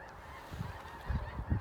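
Blue and Canada geese honk during a waterfowl hunt over a feeding field, a few separate low honking calls of moderate loudness rising toward the end, with no talking.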